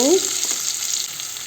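Onions with cloves, cinnamon and bay leaf sizzling in coconut oil, an intense close sizzle that starts with a brief bright crackle and settles into a steady hiss.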